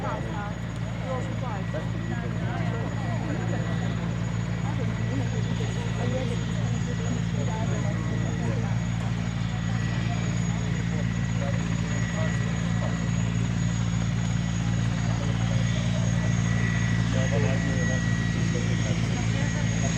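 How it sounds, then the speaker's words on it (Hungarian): A helicopter gives a loud, steady engine drone with a low rumbling hum that lasts throughout. People talk over the noise. "Néz ki ez a helikopter, mint egy tojós tyúk, nem?"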